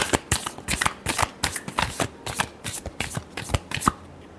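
Tarot cards being shuffled by hand, a quick run of crisp riffling flutters with short pauses between bursts, close and fairly quiet, with no talk.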